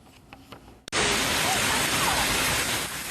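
A sudden, loud, dense rush of hard pattering as hail falls starts about a second in and continues steadily, after a quieter stretch with faint voices at the beginning.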